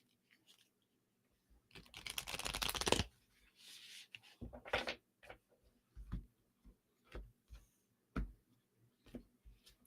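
Tarot cards are shuffled and handled up close: a quick riffling burst, then scattered soft flicks, taps and slides of cards at irregular intervals in a quiet room.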